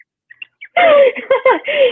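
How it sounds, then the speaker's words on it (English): A novelty pitcher gives off a run of chirpy, bird-like whistles as liquid pours from its spout, loud and close, with a few faint squeaks just before. "when you pour it from the spout, it makes bird noises"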